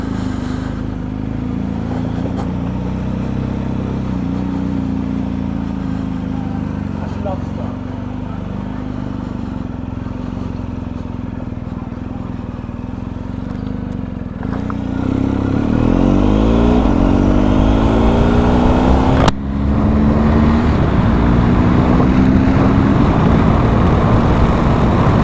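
Motorcycles rev and rumble at a bike night at Blake House Craft Centre, a steady loud engine drone that swells louder partway through with rising revs and clattering.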